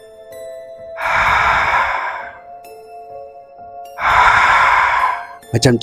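Two long, heavy breaths made by a voice imitating breathing, each lasting about a second, close up, with a brief spoken phrase at the end.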